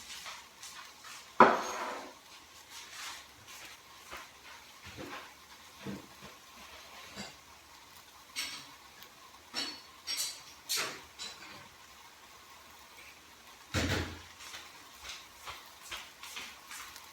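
Chinese bowls being taken from a kitchen cupboard: scattered clinks and knocks of crockery with one sharper clatter early and another later, fairly close in a quiet room.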